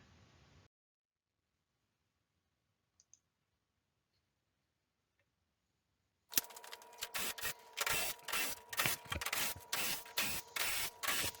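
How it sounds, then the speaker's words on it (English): Identical bolts being removed from an igloo dome frame, sped up: after a long near-silent stretch, a dense, loud run of rapid clicking and ratcheting with rhythmic bursts. "Here I am in fast motion, taking all the screws off."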